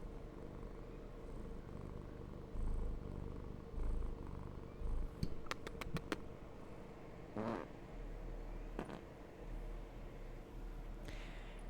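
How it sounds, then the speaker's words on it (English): A cat purring softly and steadily up close, a low rhythmic rumble continuing throughout, with a few brief clicks and rustles breaking in over the middle. "He looks grumpy, but he's purring."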